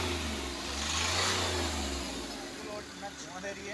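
A repaired Hyundai Xcent car engine runs steadily nearby with a low rumble that swells briefly, then settles, with background voices faintly present.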